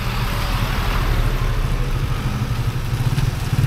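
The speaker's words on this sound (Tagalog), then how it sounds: "Meron di pala mga tricycle dito no." A tricycle motorcycle engine in the Mankayan, Benguet highlands runs with a steady low rumble and clatter, close and continuous, with rain about.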